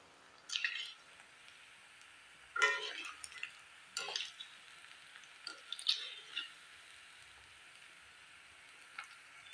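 Flattened rice gulab jamun frying in hot oil while being stirred, with soft bursts of sizzling and bubbling that flare up in short clusters between quieter stretches, fairly close and moderately loud.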